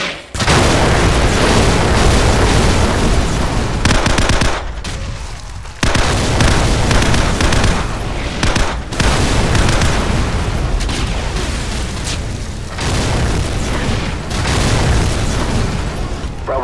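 Artillery strike explosions in the Call of Duty 4 video game: loud, dense booms and rumbling blasts that run almost continuously, with brief dips between bursts and no voices.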